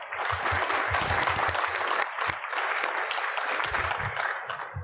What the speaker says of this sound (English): Let's give it all for our Loyolites, a warm round of applause.